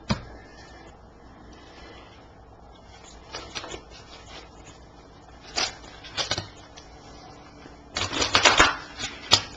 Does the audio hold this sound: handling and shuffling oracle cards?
yes